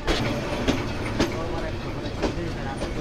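Tista Express train rolling into Mymensingh railway station, a steady rumble with rhythmic clickety-clack of wheels over rail joints, heard close from inside a carriage.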